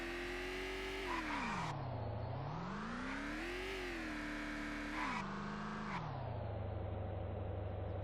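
Car engine in the video game Vein revving up and down in long sweeping surges, the pitch rising and falling several times before settling into a steady, loud idle, with no talk.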